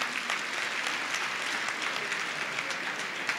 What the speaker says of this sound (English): Yes, please do give everyone a round of applause.